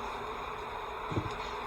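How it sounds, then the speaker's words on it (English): A dense, steady buzz of many bees clustered at the bottom of a subarctic beekeeper's hive, close and continuous with a brief low thump near the end. "Got a whole lot of bees on the bottom here."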